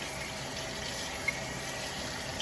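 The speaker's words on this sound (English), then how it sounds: "what we're going to do is add the water into the stew" Water pours steadily into a beef stew in a crockpot, a continuous close splashing rush with no talking.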